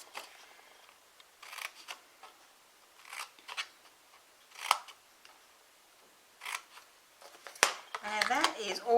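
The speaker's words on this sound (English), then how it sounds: "we're going to cut either side of that, and we're going to notch that in just a little bit on both sides as well" Scissors snip and notch card for a small gift box in short, quiet, separated cuts, with a rustle of paper near the end, close to the microphone.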